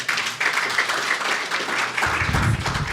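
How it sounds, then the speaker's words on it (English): A conference audience gives panelists a round of applause, with dense, steady clapping from many hands that stays fairly loud throughout. "Shall we please give our panelists a good round of applause?"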